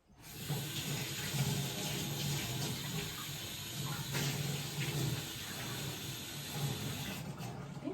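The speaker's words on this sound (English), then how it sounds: "I'm gonna put some more water in here to warm it back up" Water running from a tap into a pan, a steady, moderately loud rush of flowing water that carries on for several seconds before cutting off at the end, with no talk.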